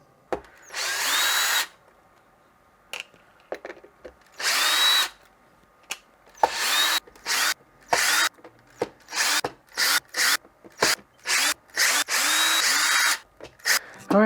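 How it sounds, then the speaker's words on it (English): Power drill fitted with a T20 Torx bit backs screws out of an Exway aux pack, heard as a series of close, loud, short whirring bursts separated by pauses. "grab that screwdriver or that bit for my drill, and we'll go ahead and take all of those out"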